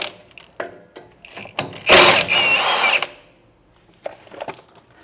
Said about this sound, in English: We're just going to pop those off with a 9/16 socket.